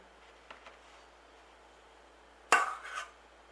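A teaspoon scoops whipped cream from a container for cream puffs, followed by the lid being pressed back on: a sharp clattering burst and a smaller follow-up clack in a quiet kitchen, with faint light taps earlier.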